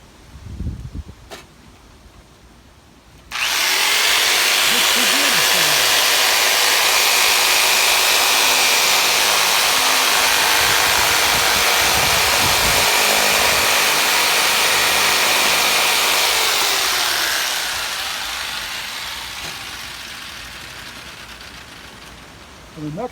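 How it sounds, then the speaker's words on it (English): A drill bores holes through a plastic bucket, a loud sustained whirring grind that starts abruptly and runs for many seconds before fading, with brief faint sounds before it. "drill holes in all corners"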